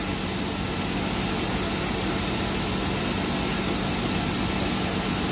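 Steady broadband machine whir and hum from a 2008 Tsugami SS20 CNC lathe with its spindle turning at 1,000 RPM, continuous and fairly loud with no breaks or talk.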